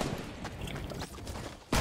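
Rapid gunfire in the video game Fortnite, a dense crackling burst running throughout with a sharp loud shot at the very end, no voices over it.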